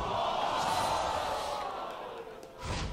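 Esports arena crowd at a League of Legends NA LCS Spring 2015 match between Team Liquid and CLG erupts in a loud roar that fades after a couple of seconds, with a brief swell at the end.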